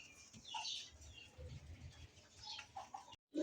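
Pigeons at a market stall, including Danish birds, give soft, low coos and a brief flutter of wings nearby, faint and intermittent, with no talk over them.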